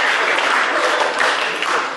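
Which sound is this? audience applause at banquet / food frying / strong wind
audience applause at banquet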